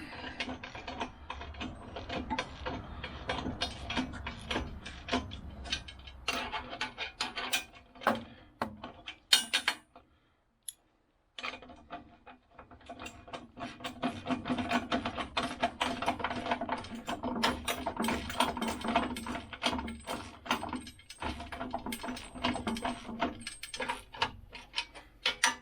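A hand ratchet wrench is worked steadily while assembling a Woodland Mills HM122 sawmill head, giving a long run of fast, quiet, close pawl clicks with one brief pause partway through.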